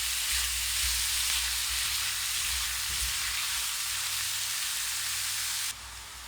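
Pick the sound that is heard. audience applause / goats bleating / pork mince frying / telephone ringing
pork mince frying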